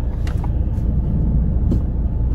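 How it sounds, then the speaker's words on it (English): A car interior while driving with an unusual noise, steady loud engine and road rumble throughout, with faint intermittent rattling or clunking on top and no voices. "Car sounds funny."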